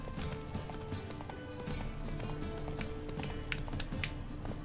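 Horse hooves clip-clopping along a road in the video game The Witcher 3, a steady trotting rhythm under game music and ambience, with occasional brighter hoof strikes and a faint snort.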